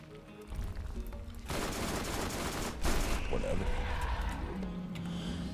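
Gunfire and vehicle sounds from the Borderlands video game, a burst of rapid shots and engine noise in the middle section, with a player talking over the game audio.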